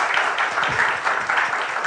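An audience at an academic talk applauds steadily, a dense wash of many hands clapping close by for the whole stretch, with no break.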